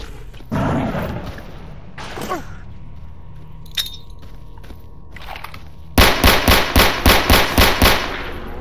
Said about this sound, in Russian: Раздались выстрелы.